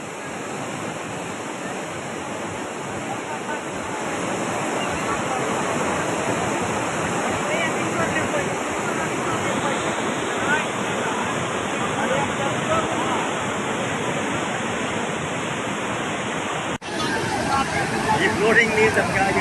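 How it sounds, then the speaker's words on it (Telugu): A swollen stream between Annavaram and Mummidivaram in VR Puram mandal overflows with floodwater, giving a loud, steady broadband rush of churning water that continues throughout, with a brief shift near the end. "విఆర్పురం మండలంలోని అన్నవరం ముమ్మిడివరం మధ్యలో ఉన్న వాగు ఉప్పొంగింది"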